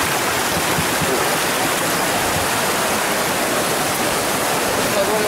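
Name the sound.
river stream flowing near Trumon waterfall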